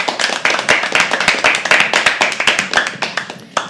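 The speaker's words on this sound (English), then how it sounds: "Keep clapping till she goes off stage." Audience clapping at a live poetry open mic as a performer leaves the stage, a dense, steady patter of many hands kept up throughout at close range, with no speech over it.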